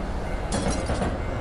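A skull train rushes past in the horror video game Tsugunohi, giving a loud, close rumbling rattle with clattering, clinking bursts that swell in the middle of the pass.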